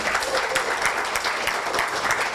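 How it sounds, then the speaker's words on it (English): Applause from an audience after a street theatre reading performance at a literary event in Goa, steady clapping at moderate volume with distinct individual claps popping through the crowd sound. "One more round of applause, please, for Sudhanva."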